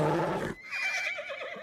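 A horse gives a short, loud whinny from a film scene, an abrupt shrill neigh followed by a wavering, fading tail.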